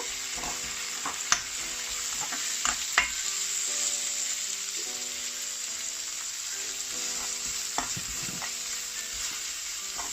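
Fennel seeds, curry leaves and salt sautéing in a pan for cutlets, a continuous close sizzle with scattered stirring clicks and scrapes throughout, no voices.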